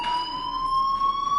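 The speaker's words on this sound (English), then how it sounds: "Hey, do you hear that fire alarm?" A fire alarm rings in Life is Strange, a steady electronic tone held at one pitch with bright overtones that sounds continuously and fairly loudly for the whole moment, with no talking.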